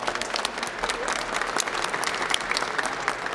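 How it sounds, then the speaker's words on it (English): Steady applause from an audience at a news conference on early childhood educator budget priorities, dense continuous clapping throughout, fairly near and even in loudness. "Can we give them another round of applause?"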